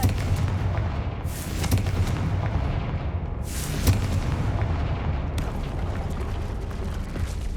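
Confringo fire spells exploding in combat in the Hogwarts Legacy video game, a dense rumbling battle mix with two loud booming bursts a few seconds apart standing out over constant low clatter.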